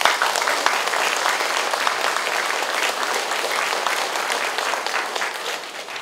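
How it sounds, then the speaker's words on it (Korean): A church festival congregation gives sustained, loud applause for a visiting elder, a dense, even wash of clapping lasting the full six seconds and tapering slightly at the end. "장로님에게 여러분 다시 한번 박수해 주시기 바랍니다"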